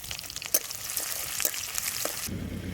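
Chopped onion hits hot mustard oil with dried red chillies and radhuni seeds, giving a steady close sizzle and crackle with a few sharp pops, the frying settling lower near the end.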